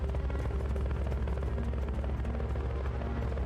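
Helicopter in the Metal Gear Solid: Peace Walker video game, a steady, loud rotor thump and engine drone that holds constant throughout with no talk over it.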